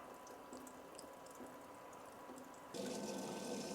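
Water runs from a portable propane water heater into a bucket, a quiet steady trickle that suddenly grows louder and fuller partway through as the flow increases, with no talking.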